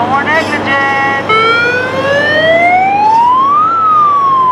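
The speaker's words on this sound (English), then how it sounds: "You heard the sirens." Loud emergency vehicle sirens wail close by, their pitch sweeping and rising in long overlapping glides over a steady road rumble.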